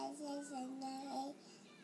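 A young child imitates a cat with a few sung, drawn-out meows in a small high voice, close and clear, in a playful singing game about Christmas manger animals.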